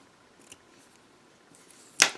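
Scissors trimming yarn ends on a crochet flower: a faint snip early on, then one sharp, crisp close cut near the end, otherwise quiet.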